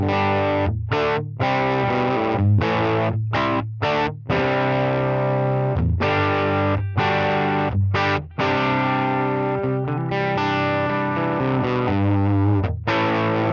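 Distorted electric guitar chords through a Line 6 Helix amp modeler with no template effects, heavy amp tone, played in choppy bursts separated by brief silences, loud and close.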